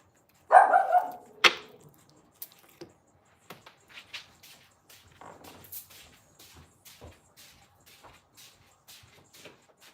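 A dog at home barks loudly in a short burst, followed by scattered faint yips, whimpers and clicks with long quiet gaps between them.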